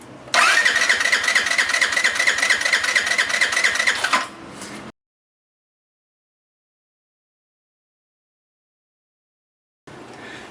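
A car with a G6BA engine cranks and starts during a fuel injector spray test; the car has suspected clogged injectors and will not restart right after stalling at highway speed. The engine catches loudly and runs for about four seconds, then cuts to silence before the sound returns briefly.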